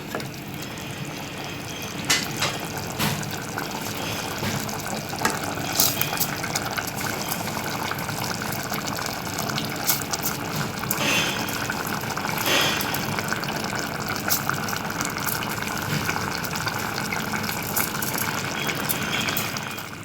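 Water poured from a glass into a pot of mushroom biryani rice, a continuous splashing fill with clinks and clatter of the pot, steady and close, without talk.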